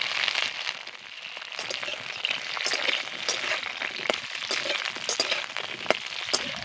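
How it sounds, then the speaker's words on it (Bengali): Cut okra crackling and sizzling in hot oil, a steady busy fry with sharp pops scattered throughout, close and fairly loud with no voices. "তেলটাকে কিন্তু আমি ভালো করে গরম করে নিয়েছি এবার কেটে রাখা ঢ্যাঁড়সগুলোকে তেলের মধ্যে দিয়ে দিচ্ছি"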